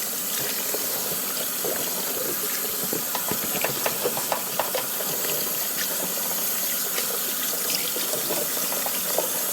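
Tap water runs steadily into a bucket of potato noodles being rinsed, a continuous splashing hiss with faint irregular drips and clinks throughout, moderately near and without talk.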